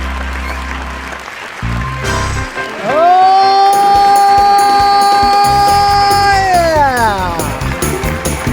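A studio audience applauds and cheers loudly and steadily for several seconds, with a brief shout and a host's voice over the crowd noise.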